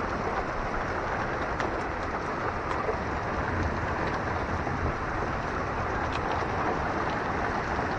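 Steady rain falling outdoors as a storm rolls in on a cold afternoon, a dense continuous hiss with a few faint bird calls over it and no talk.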